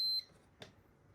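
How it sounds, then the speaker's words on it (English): A short, sharp electronic beep from a 3D-printed ESPHome power-sensor device, one high tone lasting a fraction of a second, then quiet with a faint click. "No, don't worry about that beep beep"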